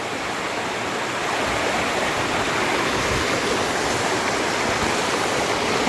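A mountain stream on Girnar, swollen by heavy rain, gives a steady, loud rushing roar of water that continues unbroken throughout, with no voices.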